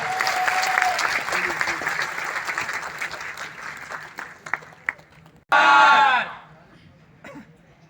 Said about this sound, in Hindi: आपकी जोरदार तालियां चाहिए, एक बार जोरदार।